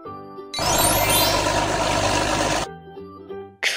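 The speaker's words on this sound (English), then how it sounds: "Bulldozer." Loud bulldozer engine idling from a toddler vehicle-sound game, a dense rumbling roar lasting about two seconds and then stopping abruptly, framed by short chiming game jingles before and after.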